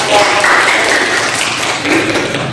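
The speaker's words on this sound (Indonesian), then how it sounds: "Silakan beri aplaus buat" Indoor audience applause after a classroom presentation, a dense even patter of clapping hands throughout, fairly loud, with faint voices mixed in.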